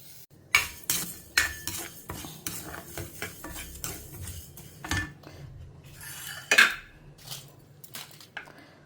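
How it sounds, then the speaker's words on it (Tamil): Chana dal, fenugreek seeds and cumin dry-roast in a pan without oil, with a spatula clinking and scraping against the metal in irregular strokes, some sharp and loud, against a quiet background. "தனியாக வெறுமை கடலப்பருப்பு, வெந்தயம், ஜீரகம் இதை மட்டும் ட்ரையாக வறுத்துக்கலாம்."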